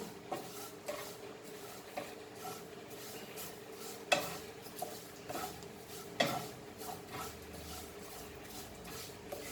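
Vermicelli roasting in a pan for seviya kheer, stirred with occasional sharp utensil clinks against the pan over a low steady hiss, close up and with no talk.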